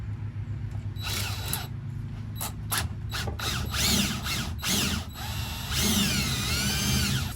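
A power drill spins a string of dryer vent cleaning rods, giving loud whirring bursts that start and stop in quick succession, then a longer wavering run near the end.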